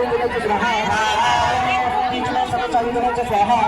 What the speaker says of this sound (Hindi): यहाँ पे देख सकते हो संगवारी हो आगे कितना ज्यादा भीड़ बने हुए हैं